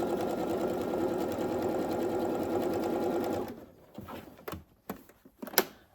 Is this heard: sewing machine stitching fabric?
yes